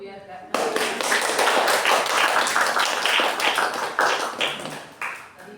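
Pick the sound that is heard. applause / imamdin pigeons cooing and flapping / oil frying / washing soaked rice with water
applause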